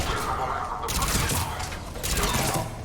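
Video game gunfire crackles in bursts through a mail slot, with rapid sharp shots in two dense stretches over steady background noise and faint voices beneath.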